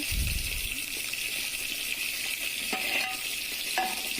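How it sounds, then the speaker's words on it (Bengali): Fish fries in a pan with a steady, close crackling sizzle, broken by a few brief clinks of a utensil against the pan. "মাছ ভাজা হয়ে গেল প্রায়"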